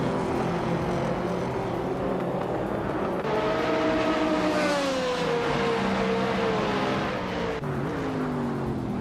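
A 2016 Opel Astra TCR races in a video game, its engine droning steadily and climbing through revs with gear-shift dips, other race cars close around it, no talk.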